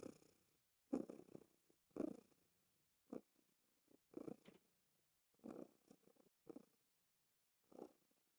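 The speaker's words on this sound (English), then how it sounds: "does the purring carry through the microphone?" A cat purring close by in short, uneven bursts with quiet gaps between, soft and low, no talking.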